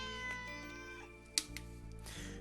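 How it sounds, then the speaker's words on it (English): A black cat meows loudly nearby in the visual novel ToHeart, a drawn-out, tonal call with a short sharp accent partway through, heard over a sustained musical background. "And it starts to meow as if trying to communicate something."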